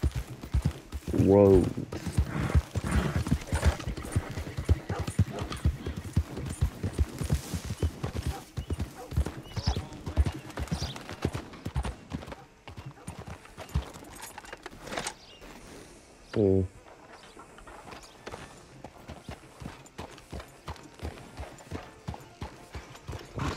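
Horse hooves clip-clopping through a town in Red Dead Redemption 2, a steady rhythmic trot with a couple of neighs and occasional gunfire, while someone talks over the game sounds.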